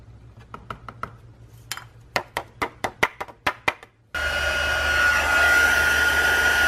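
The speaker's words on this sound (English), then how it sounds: "And now I'm heat setting this with my heat tool until it melts" Heat tool switching on and blowing a steady loud hot-air whoosh close by, used to melt gold embossing powder on card, after a run of light tapping knocks.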